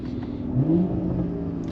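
A BMW G30 540i with a B58 engine, free-flow downpipes and Valvetronic exhaust briefly revs with a short rising exhaust note, heard from inside the cabin over a low steady hum.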